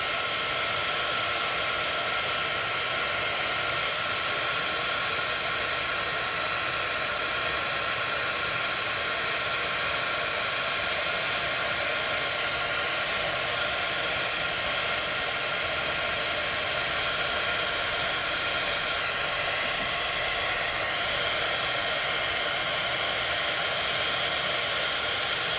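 A craft heat tool blows a steady, loud whooshing hiss without pause while melting embossing crystals on a handmade card, the hot air held close for the whole stretch.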